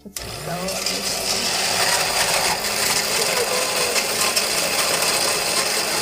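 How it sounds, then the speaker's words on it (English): A flash blender runs loud and steady for several seconds, a continuous dense whirring roar close to the microphone with no pauses. "So I'm gonna put this on the flash blender, so it's gonna get a little noisy."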